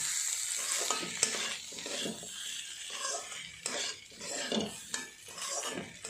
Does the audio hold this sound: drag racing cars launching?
no